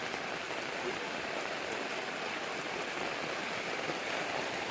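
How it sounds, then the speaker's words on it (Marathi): Heavy rain pours without a break in a Konkan village, a dense, even hiss of drops striking the ground and surfaces nearby, with no voices. "पाऊस पण जोरात आलाय."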